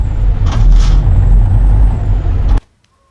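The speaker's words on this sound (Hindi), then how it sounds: "तो भाई ये देखिए ये है ट्रक की साउंड।" A heavy truck engine rumbles loudly and steadily in the mobile driving game Truckers of Europe 3, with a faint hiss on top, then cuts off abruptly into near silence.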